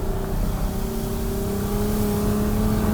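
A Kia Sedona minivan being rally driven, using throttle and left-foot braking, holds a loud, strained engine drone with a steady rising note and gravelly road noise beneath it, with no talk.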